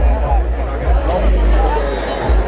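Busy crowd chatter on a Saturday night out in Finland, a steady hubbub of many voices with a low rumble underneath, close and fairly loud throughout.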